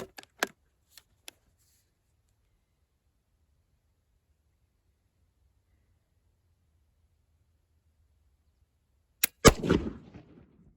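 A 1956 Egyptian surplus 8mm cartridge fires late as a hang fire: a few faint clicks, then a long silence, and finally one sharp, loud gunshot with a short ringing decay.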